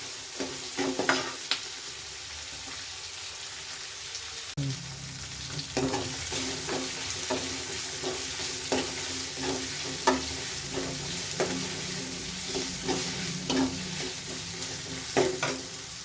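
Peas fry in a pan and are stirred, giving a steady hissing sizzle under repeated scraping strokes and light clicks. The strokes grow more regular once the frying sound swells partway through.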